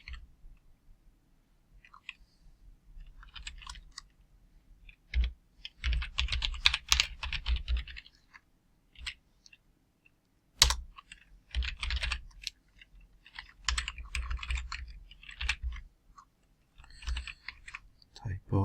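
Close keystrokes on a computer keyboard come in uneven bursts of clicking separated by pauses, with a few louder isolated taps and a voice speaking now and then.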